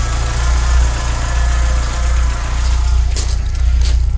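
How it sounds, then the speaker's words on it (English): A VW MK2 GTI engine idles with a steady, loud low rumble and slight vibration, broken by a couple of brief higher-pitched bursts near the end; no one speaks. "I have a problem with the power assisted steering pump, because that makes a lot of squeaking noise"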